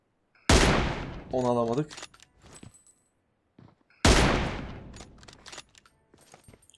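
Two bursts of gunfire in the mobile battle-royale game PUBG Mobile, each a sharp loud onset followed by rattling shots and echoes, with someone talking between them.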